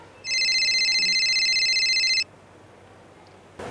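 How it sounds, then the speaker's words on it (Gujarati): A mobile phone rings at night with an incoming call, a loud, steady electronic trill lasting about two seconds before cutting off abruptly into quiet background noise. "તમારા ફોનમાં ફોન આવે છે."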